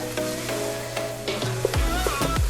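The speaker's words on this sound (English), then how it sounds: "I'm gonna put the garlic in. Smells very good. Mix it together." Garlic sizzles in a hot pan for chili while a utensil stirs and scrapes through it, a steady close frying crackle with a few scraping strokes and no talk.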